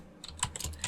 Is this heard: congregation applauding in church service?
no